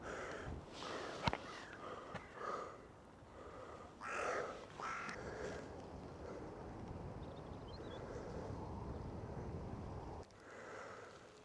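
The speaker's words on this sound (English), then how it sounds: "Crows flying around, they're always good subjects for black and white photography." Crows caw a few times among pines and ferns on a fell above a lake, distant calls over a steady outdoor hiss and breathing-like rustle, with no talk.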